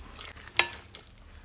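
Tabbouleh ingredients with red onion and sauce are mixed in a bowl, giving one sharp scraping clink among soft, quiet stirring sounds.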